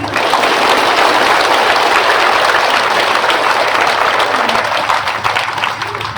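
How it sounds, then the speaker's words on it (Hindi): An audience at a Hindu religious discourse claps loudly and continuously, a dense crowd applause that eases slightly toward the end. "अपने नाम की ताली बजा लो।"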